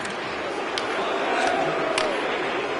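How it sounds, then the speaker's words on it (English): A home arena crowd in an NHL 25 Avalanche vs Islanders hockey game jeers a player, a broad, steady roar with a few sharper whistles rising through it. "McCarr's really hearing it from the home crowd right now."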